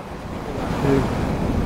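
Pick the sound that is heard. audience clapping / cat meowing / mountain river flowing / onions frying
mountain river flowing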